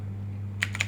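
A computer keyboard clicks a few times in quick succession near the end, after a quiet stretch with a low electrical hum.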